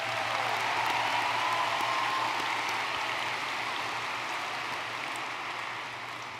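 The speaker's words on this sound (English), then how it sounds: "If we could give them a round of applause." At the WHS Class of 2026 high school graduation ceremony, an audience claps in a continuous, fairly distant patter that gradually thins and fades toward the end, with no one speaking over it.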